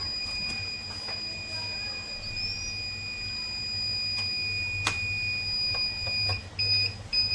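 An inverter gives its low battery warning during a discharge test, a steady high-pitched electronic beep tone held continuously over a low humming background, with a few soft clicks near the end.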